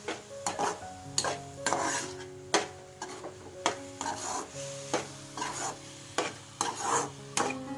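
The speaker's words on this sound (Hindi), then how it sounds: "देखिए, हमने यहाँ पे कंटिन्यूस स्टर एंड सौटे किया हुआ है।" Grated carrots simmer with milk in a pan for sugar-free gajar ka halwa, stirred continuously with about a dozen rhythmic, close scraping strokes against the pan over a faint sizzle.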